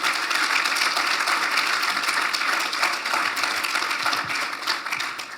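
Steady, dense applause from a lecture audience at a university distinguished lecture series keeps a fairly loud, even level throughout, with no talking.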